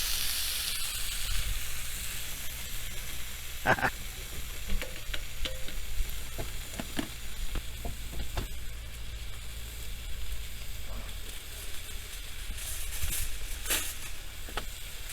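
Vegetables stir-fry at a campsite, a steady loud sizzle with scattered clicks and scrapes from stirring, close to the pan.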